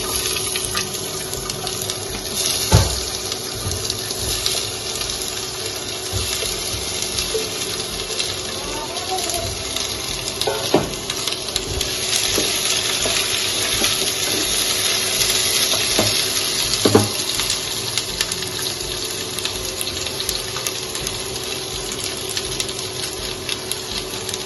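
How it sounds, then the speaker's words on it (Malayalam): Chopped ivy gourd goes into a hot pan, giving a steady, fairly loud sizzle and hiss with a few clatters as the pieces settle and are stirred. "അതിലേക്ക് നമ്മൾ അരിഞ്ഞു വെച്ച കോവയ്ക്ക കൂടി ഇട്ട് കൊടുക്കാം."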